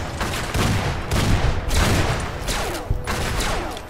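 Rapid bursts of gunfire from companions in the video game Fallout: New Vegas, a dense, continuous fusillade of overlapping shots, loud and close with no pauses.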